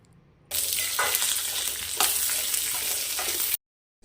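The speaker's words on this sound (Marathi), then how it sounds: "आता याच्यामध्ये परतून घेणार आहोत आपण फ्रेश कढीपत्ता" Tamarind and fresh curry leaves fry in a pan, starting with a sudden loud sizzle as they go in, then a continuous crackling hiss with brief stirring bursts before it abruptly cuts off.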